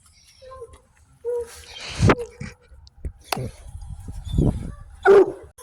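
Close puppy yips and barks come in sharp, scattered bursts inside a 2000 Taurus wagon, with a short whimpering sound among them and a few quiet human vocal sounds in the background.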